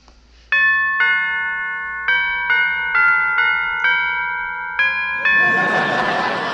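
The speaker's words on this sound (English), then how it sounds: "I'll ring the doorbell." A chiming doorbell plays a multi-note melody, loud and clear, each tone ringing on, before a burst of noisy commotion at the end.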